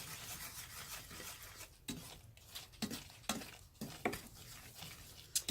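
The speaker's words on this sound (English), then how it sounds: "we'll just keep stirring this" A utensil stirring a sugar mixture in a pan, giving soft, close rasping scrapes that repeat in an uneven rhythm with occasional sharper knocks against the pan.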